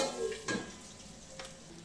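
Chilies dropped into hot oil seasoned with asafoetida for a leafy greens dish: a soft, steady sizzle, with two brief louder bursts as the pieces hit the pan. The sound stays fairly quiet and no one talks.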